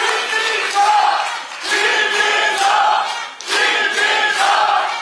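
A crowd at a political rally cheers in loud, repeated surges of shouting, roughly three waves across the stretch with brief dips between them.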